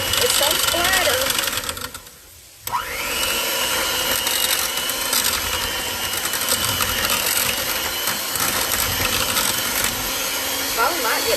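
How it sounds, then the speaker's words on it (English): An electric hand mixer beats milk for pork chop batter, a steady whirring motor drone close by that drops out briefly and restarts, with a voice talking over it. "I'm going to use the mixer. Mix them up good."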